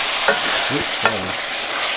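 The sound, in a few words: stirring black beans into enchilada casserole mixture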